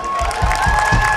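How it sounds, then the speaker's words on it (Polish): An audience applauds at a town hall opening event, a loud, dense wash of clapping with some cheering and crowd voices, close and continuous. "duże brawa"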